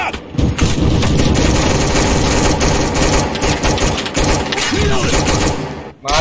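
Sustained automatic gunfire in the Roblox shooter Recoil rattles loud and close almost without pause for about six seconds, with someone talking over it at times.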